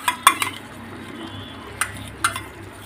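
Ginger-garlic paste goes into chicken cooking in a pan and is stirred, giving a few sharp spoon clinks and scrapes against the pan over a faint low sizzle.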